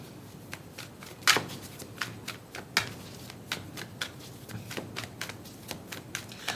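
Tarot cards being shuffled close up, a steady run of crisp riffling flicks and slaps with a few sharper snaps, almost alone with no talk.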